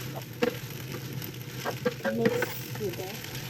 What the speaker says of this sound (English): reduce the heat and stir it. Keep stirring until all the sausage,